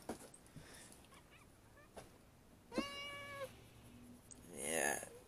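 An old house cat meows indoors several times, one drawn-out harmonic call standing out clearly near the middle, then a louder whining meow at the end, with faint household noise between and no talking.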